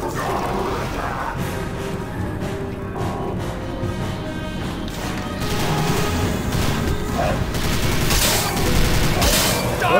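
Dense gunfire from the 2006 game Prey, rapid bursts and crashing impacts layered over a loud, continuous background that swells louder in the second half.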